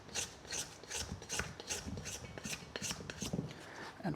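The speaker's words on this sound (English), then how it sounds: "we take a dough scraper here, scrape down the sides so we get all the flour in" Dough scraper rasping around the sides of a bowl of focaccia dough and flour in quick, regular strokes, about two per second, close up with no talking.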